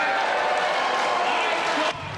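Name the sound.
town hall crowd cheering and booing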